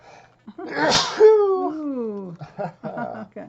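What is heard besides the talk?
sneeze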